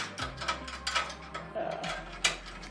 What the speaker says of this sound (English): How about ratcheting the wrench that ratchets?